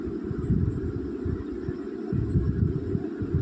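Sewing machine stitching Punjabi dress pants, folding the hem to hold a drawstring, giving a loud, steady low mechanical hum with a fast throbbing rhythm and no talk over it.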